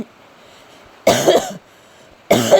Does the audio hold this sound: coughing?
yes